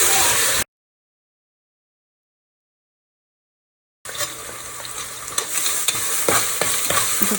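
Sliced onion, fresh coriander and mint frying and being stirred in a pan for a South Indian vegetarian dish, steady sizzling broken by a silent gap, then resuming with scraping stirs and crackle.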